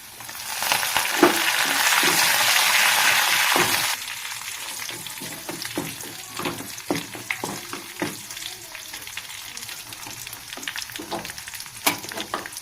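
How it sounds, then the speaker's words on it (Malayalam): Onion fries in hot oil with curry leaves for a Kerala chena puli curry, a loud dense sizzle for the first few seconds that settles into a softer crackle with scattered pops and stirring clinks. "നമ്മുടെ ഉള്ളി ഇവിടെ മൂത്ത് വരുന്നത്."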